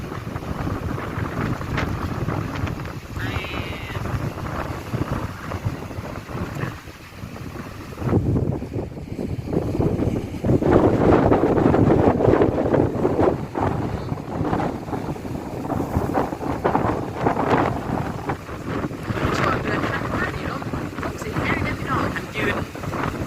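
Strong seaside wind buffeting the microphone in a steady roar, rising to heavier gusts midway, with rushing surf underneath and someone talking over it at times.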